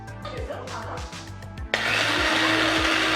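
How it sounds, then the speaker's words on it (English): Electric spice grinder blending toasted whole spices, a loud high whir that kicks in abruptly partway through after a quieter stretch of rattling and handling. "transfer them to a spice grinder and blend"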